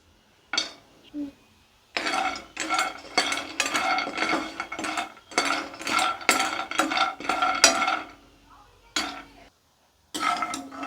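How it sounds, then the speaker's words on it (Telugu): Dry dates tumble and rattle against a pan as they are roasted and stirred, making bursts of clattery scraping that stop and start with brief pauses between strokes. "ఇలా ఒక ప్యాన్ తీసుకొని ఎండు ఖర్జూర వేయించుకున్నాం"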